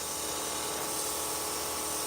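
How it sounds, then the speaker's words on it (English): Spray paint hisses steadily from a nozzle in one continuous, close, bright burst of colour with no speech over it. "I'm going to spray a little bit more color"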